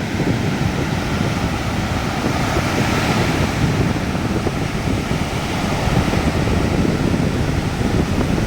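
Surf and wind at a surfing spot at Sitio Bulok, Mambajao, on Camiguin Island: a loud, constant roar of breaking waves and gusty wind buffeting the microphone, with no voices.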